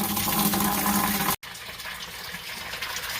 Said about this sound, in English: be able to drain this into that bucket and then shut it off to switch pails so it doesn't splatter all